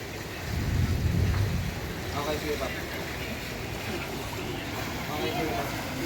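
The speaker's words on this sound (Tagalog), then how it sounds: "Sobrang lakas ng buhos ng ulan." Heavy rain pours down in a flood where a motorcycle sits stranded and submerged, a dense, steady hiss of downpour with a brief louder surge near the start and a deep low rumble underneath.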